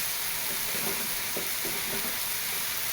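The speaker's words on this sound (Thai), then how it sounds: "เราจะผัด กระเพราหมูสับแห้งใส่หัวหอมนะ" Dry minced pork stir-fried with holy basil, dried chilies and shallots sizzles steadily in a hot pan, with a few scraping stirs of a spatula breaking through the constant close frying hiss.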